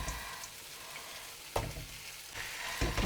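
Turmeric-marinated chicken pieces fry steadily in a pan, with a continuous close sizzle and several louder crackling bursts as pieces are added or stirred, and no talking.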